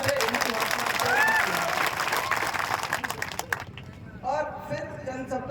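Crowd applause at a public gathering, a loud, sustained burst of many clapping hands that fades after a few seconds as a voice picks up speaking over a microphone.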